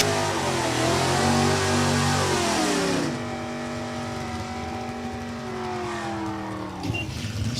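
A 1998 Camaro, C-Stock automatic, launches down the strip at New England Dragway, engine roaring through rising gear pulls and shifts, loud and near at first, then easing into a steady distant drone.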